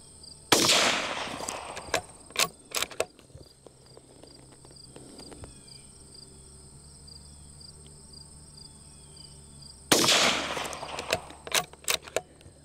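A CZ 457 rifle in .22 Winchester Magnum rimfire fires two sharp, loud shots about nine seconds apart outdoors, each followed by brief clatter and handling noises, with crickets or insects chirping steadily in the background.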